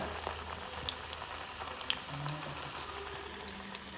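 Onion vada batter drops into hot oil and fries with a soft, steady bubbling sizzle, faint and unbroken, with small pops and no voices.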